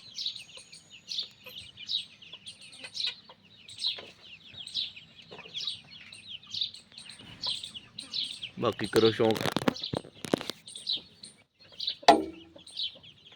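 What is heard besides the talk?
hen with chicks chirping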